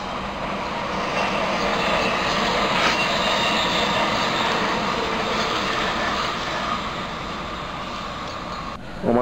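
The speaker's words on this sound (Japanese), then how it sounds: "普通列車広島行きまもなく発車をいたします" Continuous loud rumble of a JR Kabe Line local train at a Hiroshima-area station platform, with rattling wheels on rails, steady throughout with a brief squeal near the start.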